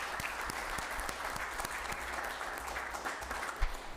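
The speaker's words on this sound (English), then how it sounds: "Could you please stand up and give them a round of applause?" Audience members at a city council meeting applaud steadily for several seconds, a dense even patter of clapping at moderate distance in an indoor chamber.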